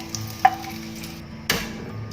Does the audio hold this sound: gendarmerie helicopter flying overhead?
no